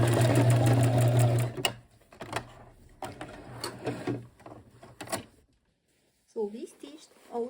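Home sewing machine stitching a leather bag, a loud steady whirring run that stops, followed by scattered clicks and handling noises, then a person speaks briefly near the end.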